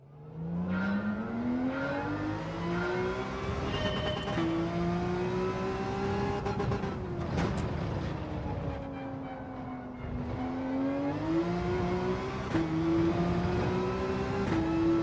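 Racing car engine in Gran Turismo 7 revving up and down through a double downshift, a loud continuous tone sweeping in pitch with blips, steady and close.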